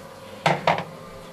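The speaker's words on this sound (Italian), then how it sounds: "tutta la trombetta la metto nella pentola a vapore" Pieces of trombetta squash drop into a steamer pot, two quick clattering knocks close by against a quiet kitchen background.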